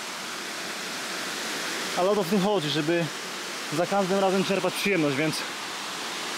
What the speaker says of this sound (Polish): docieramy do wodospadu, gdzie będziemy tutaj pływać